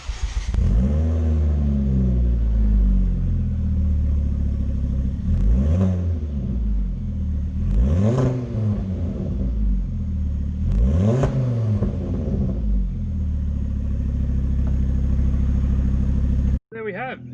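Ford Focus XR5 turbo fitted with a new 3-inch exhaust, engine revved repeatedly in several rising sweeps with a deep throaty tone, close and loud, with a voice talking over it before it cuts off.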